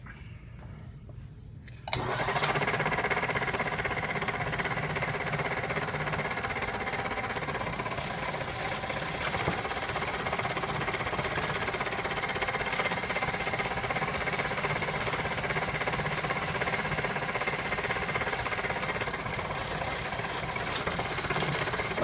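A homemade 3/8-inch drill press drills through material: a steady, loud machine drone with a grinding motor whine starts abruptly after a brief quiet moment and runs on continuously without pause.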